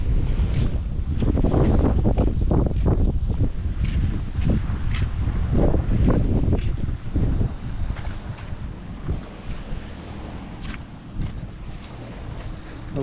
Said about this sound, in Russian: Сегодня дует сильный ветер.